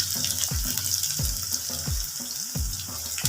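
Coriander-leaf pakoras fry in hot cooking oil over a medium flame, a steady bubbling sizzle with occasional soft pops and clinks from handling in the pan.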